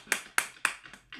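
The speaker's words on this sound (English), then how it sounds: "Clap your hands." Hands clap sharply three times in an even rhythm, close and crisp, followed by two softer, quicker claps.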